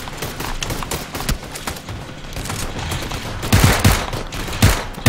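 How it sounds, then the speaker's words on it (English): Dense, rapid gunfire in the video game PUBG on Xbox One X, a continuous crackling fusillade with heavier bursts toward the end, loud and close. "I was shooting him in his face"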